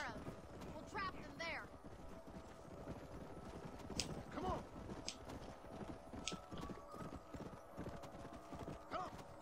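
Horse hooves clip-clop and gallop in the Xbox 360 game Red Dead Redemption, a fast repeated beat under ambient game sound, with occasional neighs and whinnies from a herd nearby.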